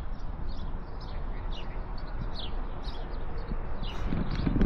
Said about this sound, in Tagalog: Ibon lang, huni ng ibon lang ang maririnig mo.